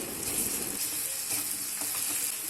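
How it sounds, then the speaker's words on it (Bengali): Garlic paste sizzles with onions already fried red in a pan, a steady, close, bright crackle that runs without a break and is stirred now and then, while cooking a Bengali prawn malaikari. "এখন আমি এর মধ্যে রসুন বাটাটা দিয়ে দিচ্ছি এবং একটু নাড়াচাড়া করে নিচ্ছি।"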